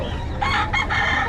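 A rooster crows in short, loud pulses at a crowded Bocaue tiangge market stall, close up over a dense, noisy background of market bustle.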